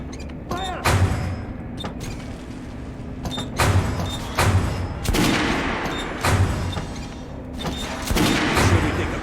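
Repeated gunshots in the video game Metro Last Light Redux: loud, sharp blasts in an irregular rhythm, roughly one or two every second, over a low rumbling backdrop.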